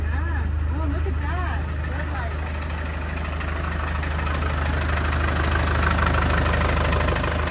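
A Land Rover Defender 90 idles steadily while warming up, giving a constant low, even engine drone close by, with people talking over it.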